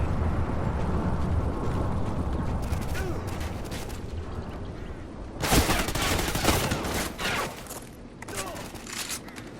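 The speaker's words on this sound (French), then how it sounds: "Tir de suppression." Bursts of automatic gunfire crackle through a Call of Duty Ghosts battle, a continuous rumbling barrage giving way to sharper, louder volleys of rapid shots in the second half.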